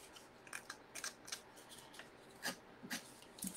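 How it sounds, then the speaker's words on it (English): Scissors scraping into tight crevices of a floral fall home decor piece, a series of short, quiet rasping scrapes at an uneven rhythm, close up with no talk. "You can use your scissors for that if you can get in there"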